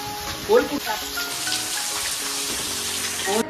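Steady rain patters down on an outdoor barbecue setting, a continuous wet hiss with a few louder splashes near the start, and brief voices murmur in the background.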